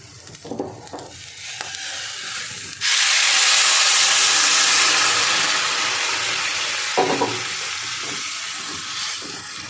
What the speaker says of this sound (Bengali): চটপট আওয়াজ শুরু হয়ে গেছে